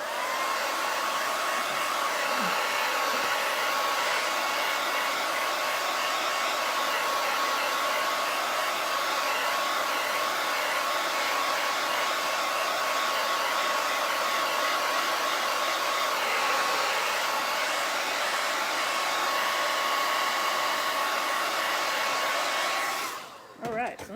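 A hair dryer blows steadily and loudly for about 24 seconds, drying a chalk-paste craft project, before it cuts off abruptly at the very end.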